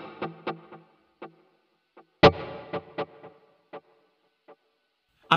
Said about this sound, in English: Now we've got the delays in series